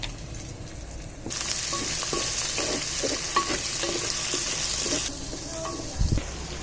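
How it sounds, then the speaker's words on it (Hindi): Onions frying in a pan for a dhaba-style dahi bhindi hiss into a loud sizzle that starts abruptly, carries on with scraping and stirring clatter, then drops back as a few louder knocks sound near the end. "ये देखिए जी माशाल्लाह प्याज को अच्छी तरह से हमने फ्राई कर लिया।"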